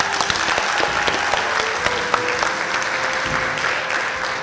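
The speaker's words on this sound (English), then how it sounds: "Let's give a round of applause for Miss Jory Knight and Mr." Audience applause fills a school hall during a formal senior assembly, a dense, steady wash of many hands clapping at close range that holds without break and has no talk over it.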